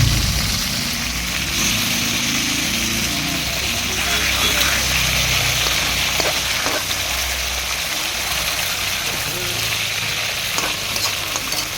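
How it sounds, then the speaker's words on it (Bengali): Chicken roast pieces frying in hot oil, a loud, steady, dense sizzle that runs unbroken from start to finish, close up. "ওই 10টা পিসের মধ্যে তো ফার্স্ট কয়েকটা ভাজি করেছি, এখন কয়েকটা ভাজি করছি"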